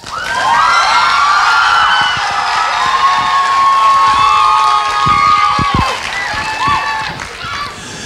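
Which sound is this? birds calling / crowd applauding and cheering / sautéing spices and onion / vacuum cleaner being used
crowd applauding and cheering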